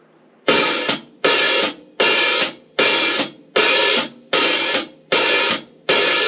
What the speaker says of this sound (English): if you were to hit the hi-hat and have it closed but only open a little bit